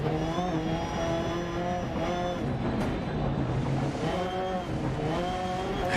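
Rally car in DiRT Rally 2.0 driving on a front right puncture, its engine droning and revving steadily throughout with harmonic pitch sweeps, tyre and gravel noise mixed in, loud and continuous.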